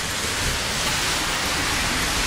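Steady rain falls in a dense, even hiss with a low rumble underneath, close and constant, with no voices.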